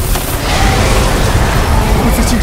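Rapid close-range gunfire in an animated Chinese western gunfight: a dense, continuous barrage of loud blasts that holds steady for a couple of seconds.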